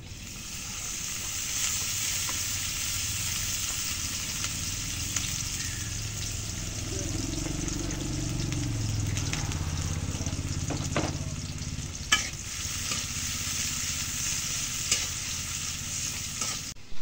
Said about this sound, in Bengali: এখন শুটকিটা ভেজে নেই তেলের মধ্যে